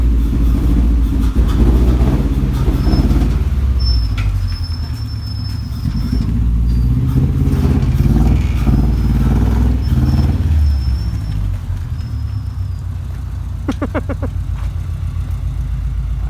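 A VW Beetle swapped with a Honda GSR engine drives close by, the engine droning and revving unevenly as it rolls along, with loud rumble and some rattling under faint background voices.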